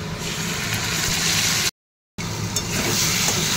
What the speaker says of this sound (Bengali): এখানে মশলা দিয়ে আলু পেঁয়াজটা এখানে ভালো করে লাল লাল করে ভেজে নিচ্ছি